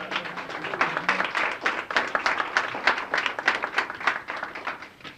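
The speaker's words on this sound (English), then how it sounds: "We give him a clap." An audience at a Boston youth recognition celebration claps for a career development director being brought up to speak, a moderately close round of distinct, rhythmic claps that gradually swells, with no talking.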